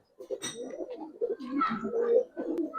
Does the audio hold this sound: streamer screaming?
no